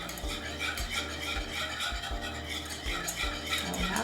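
Butter being whisked with salt and sugar as it melts in a pan for Karpatka cake, with a brisk, even rhythm of metal whisk strokes scraping and clinking against the pot, close and continuous under a faint sizzle.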